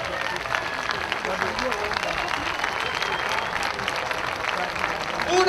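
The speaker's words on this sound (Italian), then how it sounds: "Un applauso, grazie!" An audience at a memorial event claps in sustained, dense applause that stays even and fairly loud throughout.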